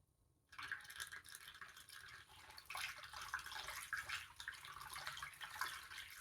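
Coolant pours from an upturned jug into the cooling system of a Lexus CT200h during a coolant change, a steady liquid rush after a short silence, faint and continuous with gentle fluctuations.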